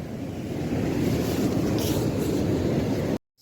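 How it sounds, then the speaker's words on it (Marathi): A dense, steady roar of heavy rain in a Konkan coastal fishing village fills the scene without pause, with a rushing wind-like quality, before cutting off abruptly. "पावसान जोरात सुरुवात केलेली आहे"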